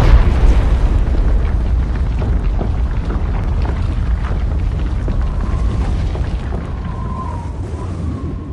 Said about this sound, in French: Et d'un coup il y a eu une grosse explosion dans la roche.